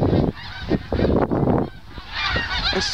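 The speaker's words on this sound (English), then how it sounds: "Canada geese go" Canada geese give a few loud, nasal honks in quick bursts, with short pauses between calls and a softer overlapping chorus of honking toward the end.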